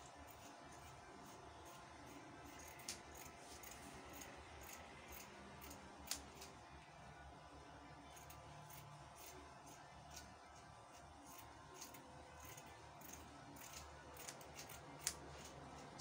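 Scissors cut fabric pieces for the back and front of a corset gown, a steady string of soft snips and ticks with a few sharper clicks, quiet and close over faint background hum.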